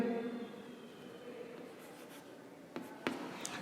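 Marker or chalk writing on a board during a programming lesson, with a faint scratching stroke, then a few sharper taps and squeaks near the end, over a quiet room hum.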